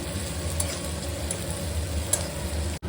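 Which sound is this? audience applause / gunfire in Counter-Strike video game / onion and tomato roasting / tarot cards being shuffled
onion and tomato roasting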